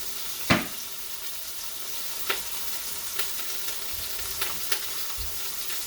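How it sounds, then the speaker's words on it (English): Steady sizzling of ground beef in a frying pan, with a few sharp stirring or scraping knocks scattered throughout; no talking. "I got this hamburger in the pan. Ooh, hear that sizzle, sizzle, sizzle?"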